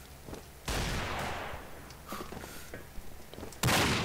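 Desert Eagle pistol shots in the Combat Arms shooter game: two loud, sharp reports a few seconds apart, each trailing into a rumbling echo, with softer background game noise between them.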